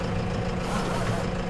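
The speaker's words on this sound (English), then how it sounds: "You can see them driving the trucks through the line here" Trucks rumble through the sale line at a farm auction, a steady low engine drone with faint idling and brake hiss, heard at moderate distance under background murmur.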